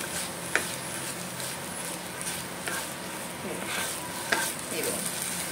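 Masala stuffing for pomfret frying in a pan over a low flame, a steady close sizzle with stirring scrapes and a couple of sharp clicks of the spatula, heard alone with no talking.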